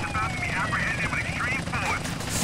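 Helicopter rotor chop in Grand Theft Auto San Andreas, droning steadily throughout the short clip under game music and a voice.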